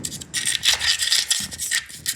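Concrete is scraped and chipped away from an ICF wall between floors with a close, harsh, gritty rasping that comes in short repeated strokes.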